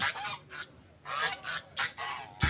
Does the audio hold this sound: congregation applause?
no